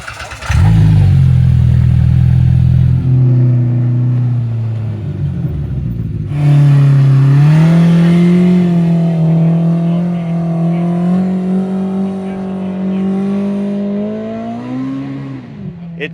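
An ATV on a Cape Breton trail revs hard and climbs, its loud engine note rising and falling with throttle as it pulls up the slope, close and continuous with no talking.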